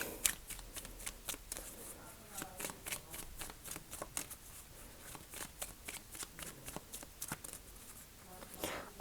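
Rapid riffling and flicking of playing cards being shuffled repeatedly, close and crisp, with a steady fluttering rhythm.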